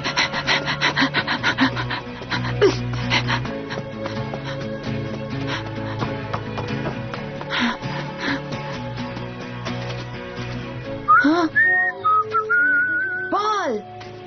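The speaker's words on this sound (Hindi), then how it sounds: "मैंने आपकी सीटी सुनी" Whistling from an animated family film dubbed in Hindi, with a run of bright, wavering notes that rise and fall over a busy background of music and scraping sounds, then several sharper sliding whistles near the end.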